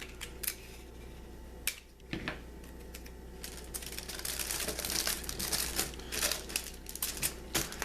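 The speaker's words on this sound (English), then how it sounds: "I think I am actually going to apply a little tape" Tape being pulled and pressed onto foil gift wrap, giving crisp crinkling and sticky peeling sounds in irregular bursts, close and fairly quiet, with no talking.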